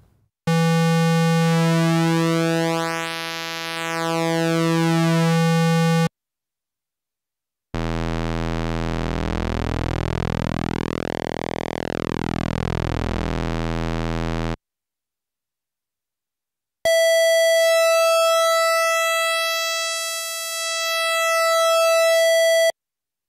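Korg Monologue synthesizer square wave with varying pulse width: three long sustained buzzy notes separated by silences, each sweeping in timbre as the pulse width changes, loud and alone.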